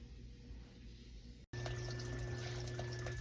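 A dishwasher's sump fills with water during a cycle started with the door latch held by a screwdriver, giving a steady hiss and rush after a brief cutout, with a constant pump hum underneath.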